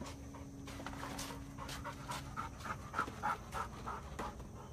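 A young dog, not quite a year and a half old, pants steadily and close by, quick rhythmic breaths at a fairly quiet level with no talking.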